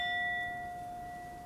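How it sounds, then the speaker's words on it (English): A single clear bell ding sound effect rings out at once and sustains as a pure ringing tone, slowly fading over a second and a half, alone without speech. "hit him with the bell"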